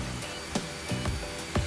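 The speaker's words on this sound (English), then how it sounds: "I'm going to show you how I vacuum gutters." Vacuum cleaning out a roof gutter full of wet sludge and sand: a steady, loud whooshing motor drone with brief sucking rattles as debris is pulled through the hose.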